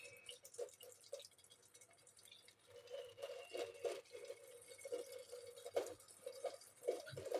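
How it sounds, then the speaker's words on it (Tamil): Half a lemon is squeezed by hand, its juice falling in faint, irregular drips and small splats, quiet and close with no talking. "அப்புறம் லெமன் நான் அரை புழிஞ்சுக்கிறேன்"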